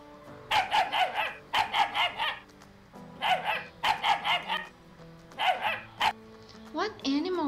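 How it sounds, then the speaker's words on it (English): A dog barks in quick clustered bursts of three or four, loud and near, repeated several times, ending with a short whimpering yip. "Dog."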